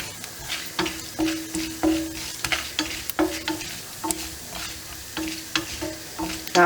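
Chana dal frying in oil until golden brown: a steady hiss of hot oil runs throughout while a spoon stirs and taps the pan in regular strokes, close by.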